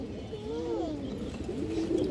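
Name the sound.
pigeons cooing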